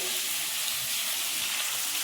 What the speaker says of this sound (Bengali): এই যে দেখো শিম আলুটা ভাজছি